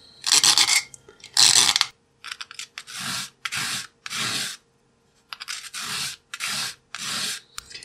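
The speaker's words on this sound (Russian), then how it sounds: "Края полученного отрезка выравниваю с помощью напильника." A hand file smooths the cut edges of a perfboard strip in about ten rasping back-and-forth strokes, steady and close, separated by brief pauses, with no talk.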